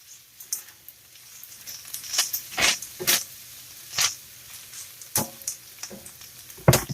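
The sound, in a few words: stirring food in a frying pan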